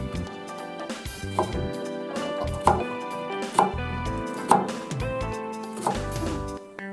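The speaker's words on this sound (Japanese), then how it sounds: "ネギも切っていきます" A knife chops green onions on a cutting board in a steady series of crisp taps, with a humming tone and faint kitchen clatter behind.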